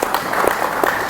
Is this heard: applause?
yes